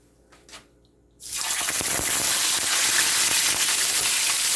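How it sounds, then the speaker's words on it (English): Tilapia fish frying in a pan of hot oil bursts into a loud, steady sizzle after a brief quiet start with a few small clinks, holding a dense, continuous crackle close up. "now it's time that we will fry our fish"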